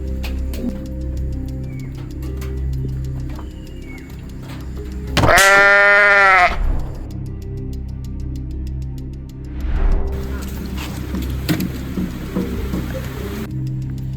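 A goat on a ruminant farm lets out one loud, close, wavering bleat midway, with quieter farm background noise and a later rustling burst around it.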